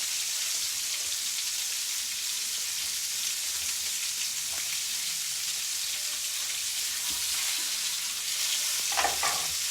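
A cod fillet fries skin-side down in a non-stick pan, giving a steady, even sizzle throughout with a few faint crackles and pops near the end and no talking.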